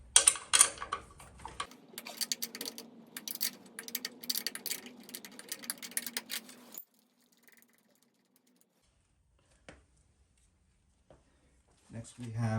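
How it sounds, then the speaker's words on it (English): A 1/2-inch wrench works a nut on a Harley Twincam 88 engine, giving a run of rapid light metallic clicks and ticks. The clicking is close and stops abruptly, followed by near silence and a few faint knocks. "This nut right here. So we need to take that off. It's a 1/2-inch wrench."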